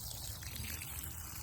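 Steady stream of water-soluble fertilizer poured at the base of garden tomato plants, a continuous close splashing trickle with no break.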